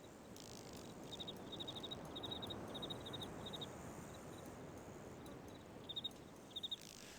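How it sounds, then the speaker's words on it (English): Beetles buzz in the video game Riven as quiet, clicky chirping bursts that repeat irregularly over a faint ambient hiss, with no talking. "beetles buzz."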